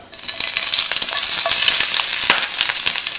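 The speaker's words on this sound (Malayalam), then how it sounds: "ഇഞ്ചി ചതച്ചത് ഇട്ട് കൊടുക്കാം" Crushed ginger dropped into hot sunflower oil with mustard seeds, bursting into a sharp, loud crackling sizzle with quick popping spatters that holds strong for a few seconds.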